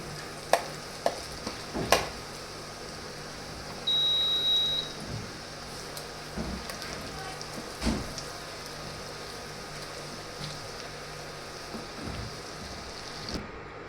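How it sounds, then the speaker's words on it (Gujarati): Garlic and red chilli chutney is stirred into hot oil, giving a soft sizzle under a few sharp spoon-on-pan clinks and scrapes, with a brief electronic beep partway through, close and moderately quiet. "લસણ અને લાલ મરચું બંને મિક્સ કરીને તે એડ કરી દઈશું અને તેને તેલ સાથે એકદમ સરસ રીતે મિક્સ કરી લઈશું"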